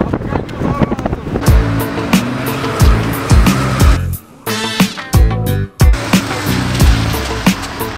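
A car's engine revs and surges in repeated bursts as it reverses and then accelerates away in a race against a footballer, loud and close, with brief drops in sound between pulls and voices talking in places.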